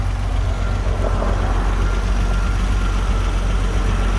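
A 1992 Renault Alpine GTA V6 Turbo idles on its turbo timer with the key removed, a loud, steady low engine drone that holds unchanged throughout.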